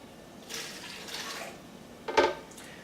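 Water at room temperature poured into two Blendtec blender jars, a soft splashing pour followed by a brief louder slosh, fairly quiet and close.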